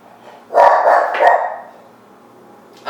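A dog in a home kitchen gives two or three loud, close barks in quick succession, followed by quiet and the start of another bark at the end.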